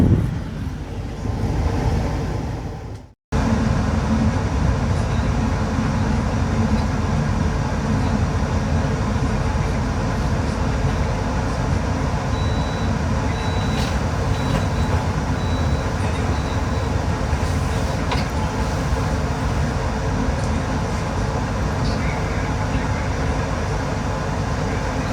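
The Argo Muria train on its night run from Jakarta to Semarang gives a steady, loud interior rumble and hum that continues unbroken after a brief cut near the start.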